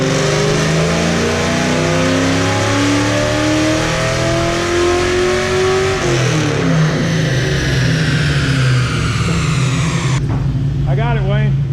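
A Fox Body Ford Mustang engine runs on a dyno, revving up in long climbing pulls that drop back and rise again, loud and close throughout.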